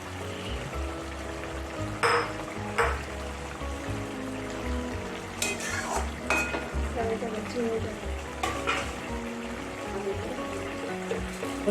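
Ash gourd simmering with previously fried prawns in a pan, the sauce nearly reduced, gives a steady bubbling sizzle with a few louder scrapes and stirring clatters, close and continuous throughout.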